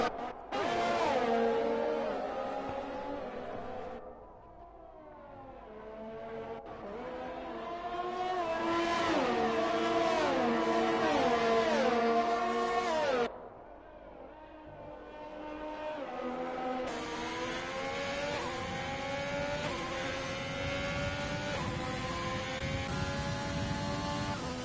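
F1 2020 video-game race cars roar around the Bahrain circuit, their high engines rising and falling in pitch as they pass and shift gears, swelling loud and then easing back across several passes.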